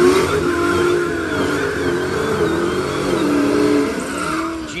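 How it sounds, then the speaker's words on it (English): Drag cars in the final round of bracket racing at a Holden event roar loudly and continuously. High engine tones rise and fall as the cars rev and pull away. "we're up with the last round of bracket racing"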